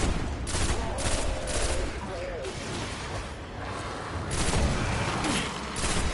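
Gunfire from the video game Destiny rattles in repeated bursts of rapid automatic shots with heavier booms, loud and dense throughout, while someone talks over it.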